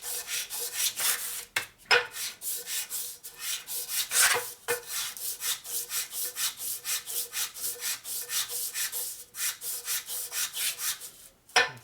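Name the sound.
sanding Harley Sportster part flat with sandpaper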